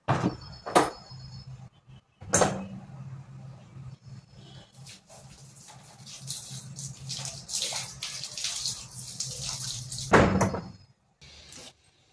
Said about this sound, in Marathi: मला गरम पाणी थोडंसं सोडायचं आहे